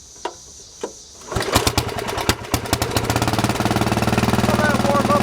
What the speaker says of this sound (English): Let's see if it'll start without the choke.